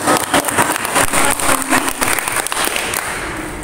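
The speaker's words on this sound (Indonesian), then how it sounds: "mari kita tepuk tangan dulu" An audience at a quiz competition claps together, a dense, even wash of hand claps that runs steadily for several seconds at close range.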